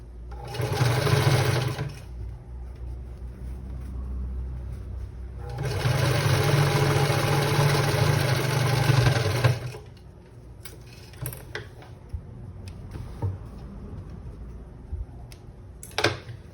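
A sewing machine stitches a fabric bag in two loud, steady runs of rapid mechanical whirring, the second one longer, separated by a pause. Quieter clicks and handling noises follow as the work is adjusted.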